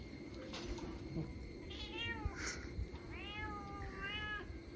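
A cat meows a few times, soft and drawn-out, against a quiet background hum with a faint high whine.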